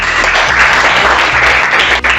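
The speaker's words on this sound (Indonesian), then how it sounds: "Bro, tepuk tangan buat Lowi." A classroom of students claps for their classmate Lowi, a short burst of loud, close, steady applause that briefly dips near the end and then carries on.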